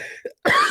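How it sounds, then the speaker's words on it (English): A person recovering from an illness lets out a single sharp cough up close, right after a brief trailing bit of voice and a moment of silence. "I'm getting over getting sick, so I'm gonna cough every now and then"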